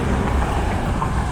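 Steady broadband roar of highway car traffic carrying into a wooded Appalachian Trail section in Pennsylvania, continuous and fairly loud with wind buffeting the microphone, no talking.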